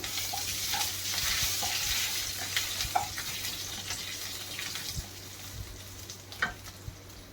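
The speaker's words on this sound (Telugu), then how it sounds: "ఇవి ఫ్రై చేసుకోవాలి. ఫ్రై అయినాయి కదండి. తర్వాత నేను కరివేపాకుని యాడ్ చేశాను." Chopped ingredients and curry leaves frying in hot oil for a mushroom curry, a steady close sizzle with occasional stirring clicks and soft scrapes, no voices.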